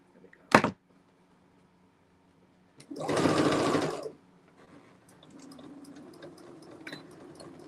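Sewing machine stitching quilt triangles in one short run of about a second, preceded by a sharp isolated click and followed by a faint low hum and light handling noises.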